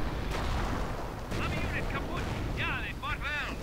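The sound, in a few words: rockets and artillery fire in a video game battle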